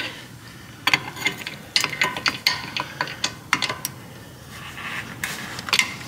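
A ratchet clicks in short irregular bursts while a brake caliper bolt is tightened on a Mazda CX-9 during rear pad and rotor work, with crisp close metallic ticks and brief pauses.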